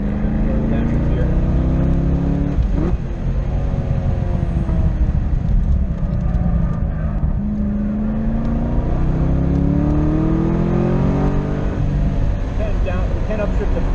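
A Chevrolet Corvette C6 Z06 on a track day drones loudly from inside the cabin, the V8 rising and falling in pitch as it downshifts and revs, with a driver's voice talking over the engine throughout.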